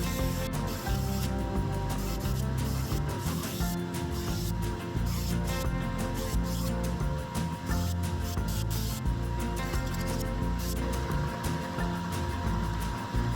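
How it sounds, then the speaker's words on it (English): A belt sander fitted with an 80 grit belt grinds wood cooking utensils, a dense, continuous abrasive roar with a steady motor drone throughout and no pauses. "I start with an 80 grit belt to remove wood until I have the shapes I need."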